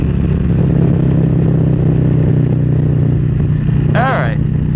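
Motorcycle cruising at 70 mph in fifth gear in the right lane of a highway, a steady loud engine drone with wind rush throughout and a brief rising whistle-like squeal near the end.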